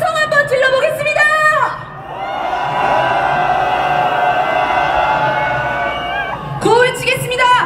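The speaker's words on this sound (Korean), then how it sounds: "부글부글한 민심을 대변할 함성 한번 질러보겠습니다." A large street-protest crowd at a candlelight impeachment march lets out a long, loud collective roar and cheer, sustained for several seconds, with shouted voices and whoops at the start and end.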